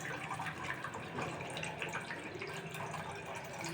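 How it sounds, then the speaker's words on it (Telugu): Water pours into a bowl for making Maggi noodles, a continuous soft splashing that runs quietly and evenly for a few seconds. "ఫస్ట్ అయితే మనం వాటర్ వేసుకుందాం"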